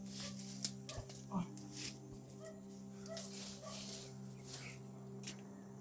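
Several short dog barks and yips sound from a distance, scattered over a steady low hum, with a voice talking faintly in the background.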